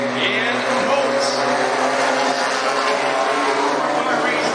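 Hornet class race cars at Cottage Grove Speedway, a dense, continuous engine drone from several cars racing close together, loud and steady under an announcer's voice.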